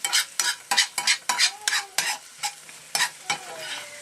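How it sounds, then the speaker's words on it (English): Onions frying in a pan while being stirred: rhythmic scraping strokes of a utensil, about a dozen, over a soft continuous sizzle, close and clear. "I want to soften up these onions first."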